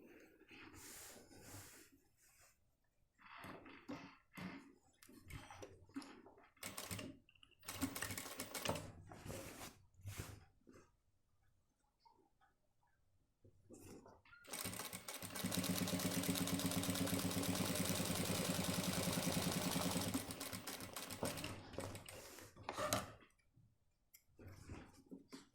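A sewing machine stitches a shirt cuff in short stop-start bursts of fast mechanical rattling, then runs in one long steady stretch before pausing again, close and clear.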